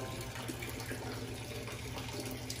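Water pouring steadily from a portable filtration setup for rinsing off outdoors in the back country, a continuous close splashing rush with no pauses.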